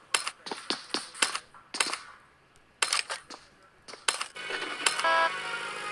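Gunfire in a PUBG Mobile custom match, heard as repeated sharp shots in short bursts at moderate distance, separated by brief pauses, with denser rapid firing near the end.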